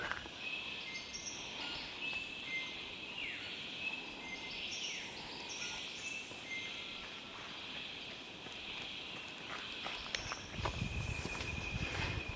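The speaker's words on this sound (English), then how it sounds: "It's hard to beat the sounds of the rainforest in the morning. Just all the birds" Morning birdsong in a Queensland rainforest on the Coomera Circuit, several distant whistles and sweeping calls layered over a soft ambient hiss, with a few footstep crunches near the end.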